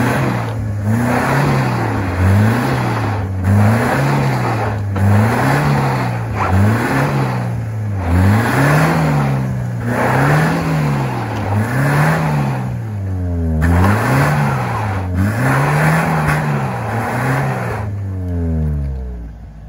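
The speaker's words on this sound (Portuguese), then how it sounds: "Engata a primeira e acelera." A Chevrolet Blazer 4x2 pickup stuck in mud revs hard and loud, its engine rising and falling in repeated surges for about twenty seconds before cutting out.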